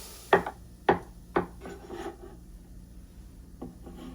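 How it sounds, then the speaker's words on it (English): A knife slices mushrooms on a cutting board with three crisp, close chops at an even pace, followed by softer scraping and a couple of fainter cuts. "I'm going to cut up some more mushrooms here"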